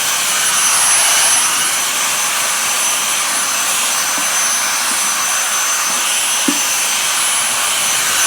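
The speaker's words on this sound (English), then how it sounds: "Let's vacuum up all this fret dust." A vacuum cleaner sucks up fret dust from a 2004 Fender Acoustasonic Stratocaster, giving a loud, steady, broadband whine and roar that runs unbroken throughout, with a few faint knocks near the end.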